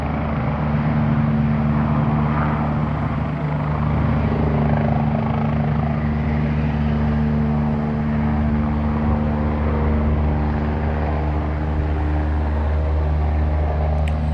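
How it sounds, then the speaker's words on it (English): A helicopter hovers overhead with a steady, loud droning rotor thrum and engine whine, holding constant throughout as if circling or only starting to move away. "this helicopter might sit here for about 5 fucking minutes making, oh, now it's leaving."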